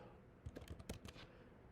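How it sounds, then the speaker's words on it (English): Fingers typing on a computer keyboard, a quick irregular burst of close key clicks and taps that starts after a short pause, then trails off into quiet room tone. "this typing thing"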